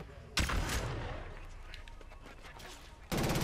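Gunfire in Killzone Shadow Fall: a sharp loud burst, a stretch of quieter combat noise, then another heavy volley of rapid shots near the end.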